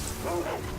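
Dogs in the video game Sekiro: Shadows Die Twice let out a short yelping bark, a brief whining bow-wow that is loud and close within a dense backdrop of game sound.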